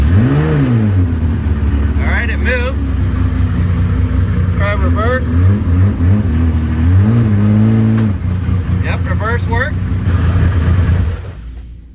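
A Datsun 280Z race car's engine runs loud and steady while the car moves off, with rising and falling revs, voices talking over it throughout, and the sound cutting off abruptly at the end.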